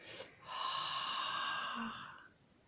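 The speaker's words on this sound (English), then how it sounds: "we have some type of sound when we yawn" A yawn: a long breathy exhale with a faint airy whistle, rising quickly and fading out over a couple of seconds, close and quiet.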